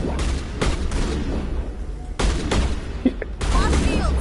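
Gunfire in the Mass Effect 1 Legendary Edition on PS5, loud bursts of shots and booms in quick runs separated by short pauses, with a voice talking faintly underneath.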